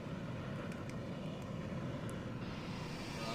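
A steady, loud aircraft engine roar from an aircraft flying a display at the Royal Aeronautica Air Tattoo. It holds an even level throughout, with no voices over it.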